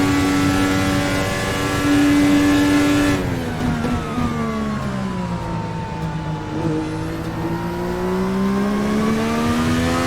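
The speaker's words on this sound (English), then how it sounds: "short shifting to not get too much wheel spin" Simulated Indy Car 2021 formula race car engine in a racing game, a loud continuous high-pitched whine rising and falling through upshifts and downshifts as the car is short-shifted through corners, with no talk over it.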